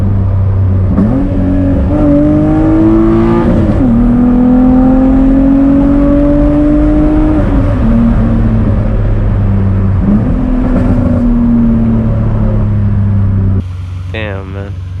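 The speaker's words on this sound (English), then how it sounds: "now the car sounds normal, it sounds healthy, and let's get another pull for you guys real quick." A BMW E46 accelerates hard from inside the cabin, its engine note climbing steadily through several gears with brief dips at each shift, a loud, close, continuous drone ending in a sudden drop.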